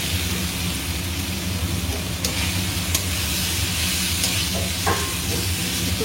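Spiced vegetables, including pointed gourd and potatoes, fry in a pan in a home kitchen, giving a steady close sizzle and hiss with a few brief scrapes of stirring.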